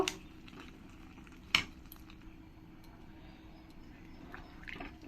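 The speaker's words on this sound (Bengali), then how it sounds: "গরম জলটা দিয়ে ভালো করে আমি একবার নেড়ে নেব" A spoon stirs jackfruit curry (echor kalia) in a pot just after hot water goes in. The scraping is faint and quiet, with one sharp metallic clank early on.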